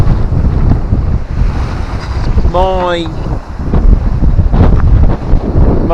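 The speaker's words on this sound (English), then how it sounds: "Oh, a lot of wind there." Strong wind gusting across a microphone on the River Humber shore during sea fishing, a loud, constant rumbling buffet throughout, with a brief voice cutting in partway through.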